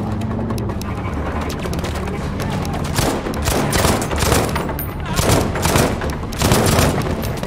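Rapid bursts of gunfire in the Battlefield V beta, playing as the Support class, with shots cracking repeatedly over a constant battlefield rumble and louder volleys building toward the end.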